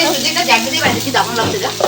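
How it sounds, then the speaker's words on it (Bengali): Cauliflower frying in a pan during festival cooking, heard as a brief, loud, close sizzle with stirring movement. "আমার দিদি এখন এখানে এই যে ফুলকপি ভাজা করছে"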